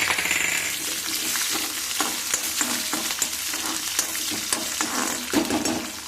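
Mustard seeds crackle and pop in hot oil, joined by green chillies and curry leaves for a fafda-side tempering; a steady loud sizzle fills the whole stretch with scattered sharp pops and no voices.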